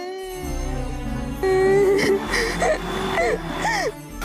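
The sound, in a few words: a girl crying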